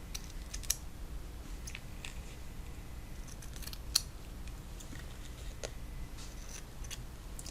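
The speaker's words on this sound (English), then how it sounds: "This cuts hair okay." Bonika shears cutting hair on a mannequin, giving a steady series of small crisp snips and ticks close by over a low background hum, with no talking.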